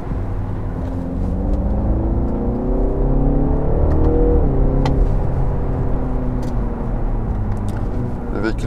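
A 2019 BMW 330e hybrid saloon in sport mode accelerates with a steady, rising engine whir and hum heard from inside the cabin, with a voice talking over it.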